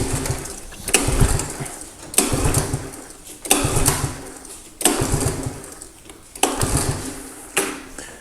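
An abandoned Honda three-wheeler, choked and with a suspect carburetor, is pulled over about six times at a steady rhythm. Each pull gives a short mechanical rasp and chuff that dies away without the engine catching.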